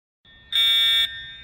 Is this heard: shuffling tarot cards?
no